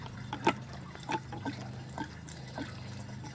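Gear oil draining from a GY6 scooter transmission into a bucket, a soft, faint trickle with small irregular drips and splashes, close by and without talk.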